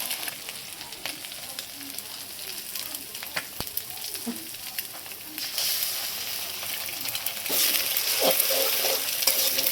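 An egg goes into the side of a frying pan beside capsicum, producing a steady near sizzle with light stirring clicks; the hiss grows louder and brighter partway through.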